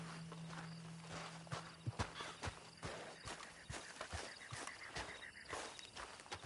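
Horse hooves clip-clop at a walking pace in a video game, a steady uneven series of fairly close footfalls over a low background hum, with no talk.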